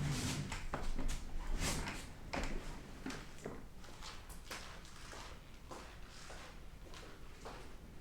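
Indoor footsteps in squeaky boots, a run of sharp, irregular steps and scuffs at close range, fairly quiet, with no speech over them.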